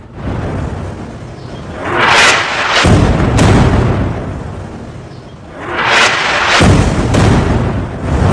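Missile strikes hitting a building in Lebanon during Israeli attacks on Hezbollah, two heavy booming blasts with long rumbling roars, loud and close, each swelling and fading.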